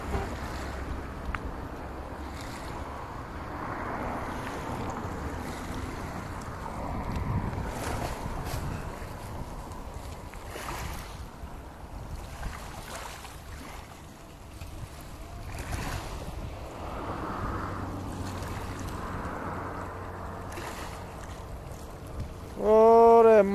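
Boat engines running at sea on a fishing trip, a steady low rumble mixed with wind buffeting and splashing water, fairly constant throughout with gusts of wind noise against the microphone.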